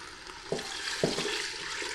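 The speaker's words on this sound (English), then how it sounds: "It's time to add the water." Water pours steadily into a pot of vegetables for homemade vegetable stock, with a soft, continuous splashing broken by a couple of light knocks.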